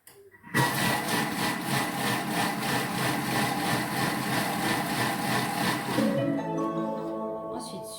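A Thermomix food processor whirs loudly and steadily while mixing bread dough at speed 5, holding a constant mechanical drone for several seconds before winding down with a falling motor tone at the end.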